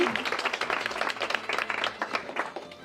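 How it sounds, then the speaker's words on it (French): An audience at an interior-design competition claps for a contestant, a lively scatter of individual hand claps that rises and dips unevenly across a few seconds. "on peut effectivement applaudir Julie, bravo"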